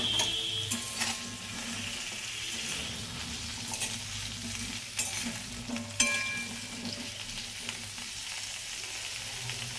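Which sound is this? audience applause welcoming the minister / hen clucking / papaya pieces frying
papaya pieces frying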